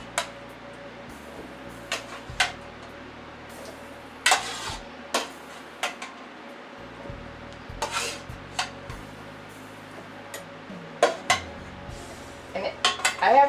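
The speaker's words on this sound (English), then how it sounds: "So now I'm gonna put the potatoes in the Ninja, because we're gonna make mashed potatoes" Cooked potatoes being tipped into a Ninja blender for cheddar cheese mashed potatoes, heard as scattered clattering knocks of pot, utensils and jar, close and irregular, with clusters of sharper clanks near the end and no talking.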